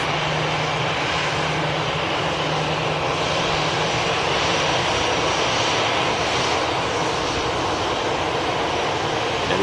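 An EasyJet Airbus A320 jet departs toward Tenerife, its engines giving a loud, steady broadband roar that fills the whole stretch without any talk.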